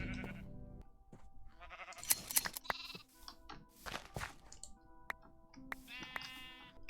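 Minecraft sheep bleat repeatedly in a wool-farm game session, several short wavering bleats scattered across the clip, clear and close with small clicks between them.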